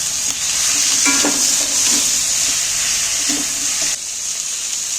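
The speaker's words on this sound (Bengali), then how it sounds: "এইগুলোকে একটু ওই হালকা করেই একটু তেলের মধ্যে কষিয়ে নেব" Ground cumin and coriander paste sautéed in oil for a fish curry, a steady sizzle with clinks and scrapes of stirring, which thins out near the end.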